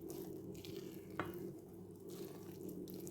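Coconut oil being stirred into gluten-free, dairy-free pancake batter, a soft, steady wet mixing swish throughout with one brief sharper knock near the middle, fairly faint and without talk.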